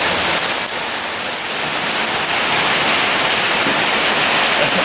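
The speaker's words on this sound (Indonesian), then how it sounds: "karena hujan kita nggak bisa meneruskan ke Sumur Panguripan ya Bang ya. Tapi perjuangannya hujannya lebat sekali" Heavy rain pours down steadily and loudly outdoors at a graveyard site, a dense continuous hiss and roar of water with no other sounds breaking through.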